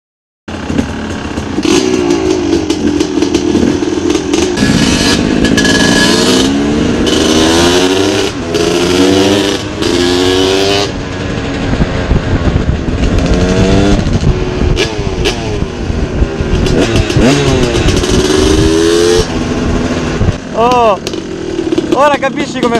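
Yamaha YZ 250 two-stroke dirt bike revving hard through the gears, loud rising and falling engine sweeps repeating across the run, with people talking over it.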